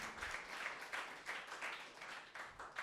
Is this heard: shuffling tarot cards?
no